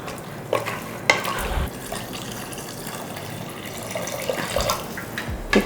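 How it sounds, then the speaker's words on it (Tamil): Water poured into a gravy in a pressure cooker, a steady close splashing and trickling with small clinks of utensils against the pot. "இப்போ இது முழுகிற அளவுக்கு தண்ணி விட்டுருக்கேன்."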